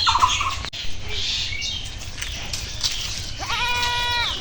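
A goat lets out one wavering, nasal bleat near the end, fairly close, over a steady background hiss and with no speech.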